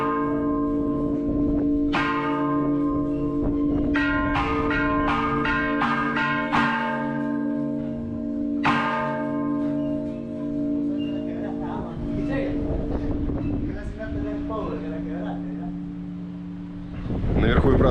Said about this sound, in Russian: Сейчас мне сказали, что будут устраивать перезвон колокольный